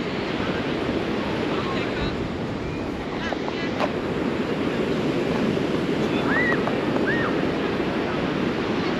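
Surf rolls steadily onto the beach beside the Old Orchard Beach pier in Maine, a loud continuous wash mixed with wind buffeting the microphone, with faint distant voices and a couple of brief bird-like chirps.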